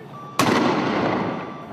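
Tear gas grenade launched during street clashes in Bethlehem in December 2017: one sharp, loud report bursts out of low background noise and then rings off in a long fading echo.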